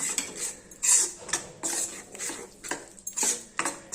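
Spoon scraping and clinking in a pan as gram flour is stirred into melted ghee for besan barfi, a rapid irregular rhythm of metallic strokes, close and fairly faint with no talk.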